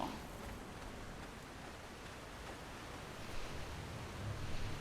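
A waterfall in Conan Exiles gives off a soft, steady wash of rushing water, faint and constant throughout, swelling a little toward the end.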